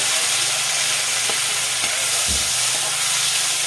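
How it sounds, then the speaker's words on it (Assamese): Dal being tempered with tomatoes in hot oil gives a steady, loud broadband sizzle and hiss that runs unbroken throughout, with a few faint stirring knocks and no talking. "মায়ে তেল মাৰিছে দালি এইচব বিলাহী দি তেল মাৰিছে"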